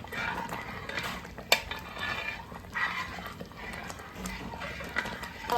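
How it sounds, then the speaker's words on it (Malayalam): Aravana pudding with ground grapes being stirred in a pot, a spoon scraping and knocking against the metal in uneven strokes, with one sharper clank midway, moderately close and without talk. "എന്നിട്ട് നല്ലതുപോലെ ഇളക്കി കൊടുക്കണം."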